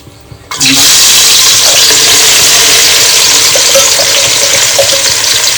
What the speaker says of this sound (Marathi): आता आपण कांदा टाकणार आहोत.